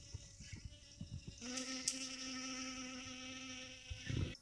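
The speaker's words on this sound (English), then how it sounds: "Yeah, the bees are all over this stuff." Honey bees buzz around sorrel flowers outdoors, a faint insect drone that swells closer around the middle and then fades, with soft rustling and no talking.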